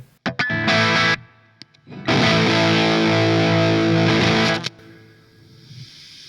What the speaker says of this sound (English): you've really got to push the fuzz up for it to get the character of this